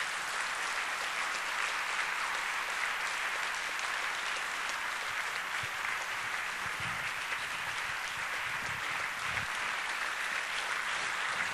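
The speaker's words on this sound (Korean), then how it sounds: "우리 박수로 목사님 맞이하겠습니다." A church congregation at an autumn Bible conference gives sustained applause to welcome the pastor, a dense, even roar of many hands clapping continuously without a break.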